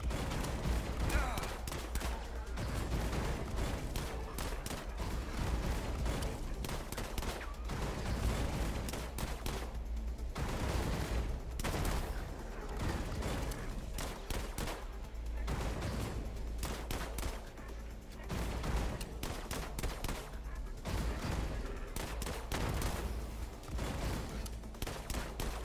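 Continuous gunfire from System Shock Remake, dense bursts of rapid shots layered over a steady low hum, loud and sustained throughout with brief lulls between volleys.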